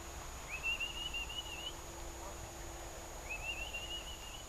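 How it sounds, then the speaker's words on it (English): A person whistling to call pigeons outdoors, with two long, rising then level whistles about three seconds apart, clear above a steady hum and low background noise. "Okay, he's whistling"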